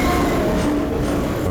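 Train in the Half-Life 2 video game, a steady continuous rumble and rattle of rolling stock holding at even loudness throughout, close and unbroken, with no talk over it.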